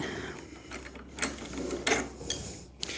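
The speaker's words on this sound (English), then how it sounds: "so now I need to remove this Torx. This one's fairly straightforward as well." Torx bolt being worked loose on an Indian FTR motorcycle, faint mechanical clicks and scraping taps scattered over a quiet workshop background, with no talk.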